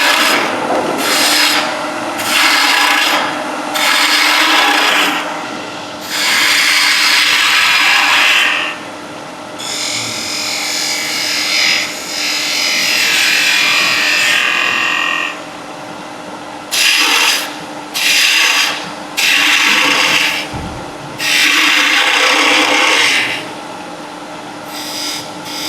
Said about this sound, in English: So let's get rid of the waste. Spindle gouge.